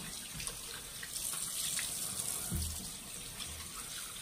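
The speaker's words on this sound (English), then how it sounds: "And then I rinse." Tap water runs steadily into a sink during a face rinse, a soft continuous splashing stream heard close up and alone, with small shifts as hands move through the flow.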